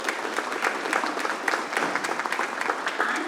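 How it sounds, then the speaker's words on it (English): A crowd applauding steadily at a committee meeting, dense clapping at a moderate distance with no one speaking over it, holding an even level throughout. "Let's give them a round of applause."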